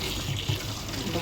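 Tap water from a municipal supply runs steadily into containers and bottles, a continuous broadband rush with a faint low murmur underneath, close and unbroken for the whole moment.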